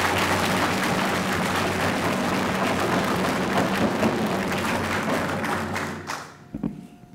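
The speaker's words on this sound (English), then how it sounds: "Let's give her a big round of applause." An audience at a Coast Salish Day 2015 event applauds a speaker with steady, dense clapping that stays loud for about six seconds, then thins out and stops.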